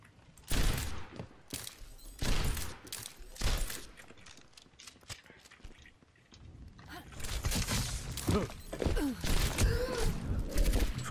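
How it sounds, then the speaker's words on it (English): Rapid bursts of machine gun fire in the first-person shooter Overwatch, loud and close, coming in several volleys separated by brief pauses, mixed with impacts and clattering game effects. "Of course you get your machine gun as well."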